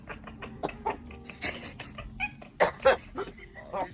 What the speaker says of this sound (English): He's just a chatty cat.